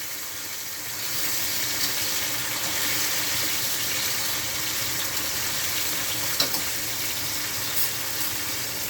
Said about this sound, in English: We're going to saute our seasoning.